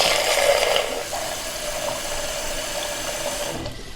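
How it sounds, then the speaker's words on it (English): Tap water runs steadily into a bowl of dried beans, a continuous close hiss and gurgle lasting several seconds with no voices. "now we have to fill up the bowl with water"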